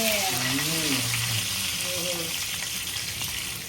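Prawn-stuffed pomfret sizzles steadily in a hot pan just after being flipped, a constant crackling fry with a person's voice talking over it.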